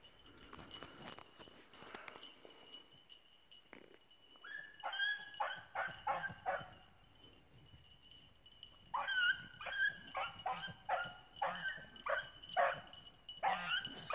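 Several dogs bark in repeated bursts, with yips and whimpers mixed in, fairly close and loud, broken by a quieter stretch between the volleys.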